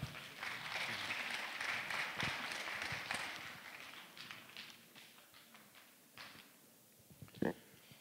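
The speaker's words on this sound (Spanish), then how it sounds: "Fuertes palmas para él." An audience at a university engineering school's 61st anniversary ceremony applauds, steady clapping from a crowd in a hall that is fairly faint and distant and thins out toward the end, with a few louder taps.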